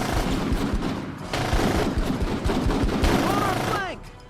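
Rapid gunfire bursts and explosions rattle through a military shooter video game while soldiers shout over the battle.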